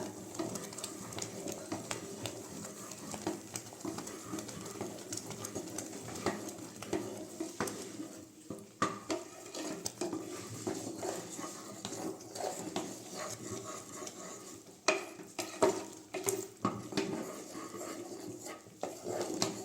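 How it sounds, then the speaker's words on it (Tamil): Pearl millet porridge bubbling in a pot and being stirred steadily, with soft scraping and occasional spoon knocks against the rim, fairly continuous over a low simmering rumble. "நல்லா ஒரு ரெண்டு நிமிஷம் கிண்டி விட்டுக்கோங்க"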